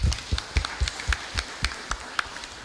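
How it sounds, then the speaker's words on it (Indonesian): Scattered, fairly sparse hand claps from an audience at a polling-station officers' (KPPS) swearing-in ceremony in Giripeni for the 2024 election; sharp individual claps land in a loose, uneven rhythm without any voices. "Saya pengen tepuk tangan semua dulu."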